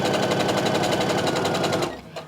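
A sewing machine runs quickly down jelly roll quilt strips, a loud, even, rapid needle clatter held for about two seconds before it stops abruptly, close and with no talk.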